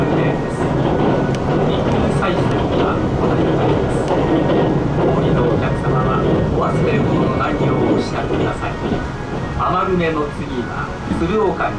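A train rumbles steadily along the rails toward Niigata through the Shonai Plain, heard from inside a carriage, a continuous low roar throughout, with a voice talking over it.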